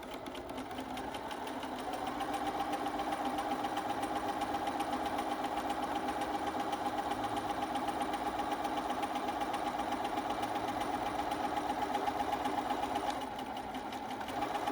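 A sewing machine stitches fabric face mask lining pieces, starting up after a quiet moment and then running in one long, even, close mechanical hum before easing off near the end.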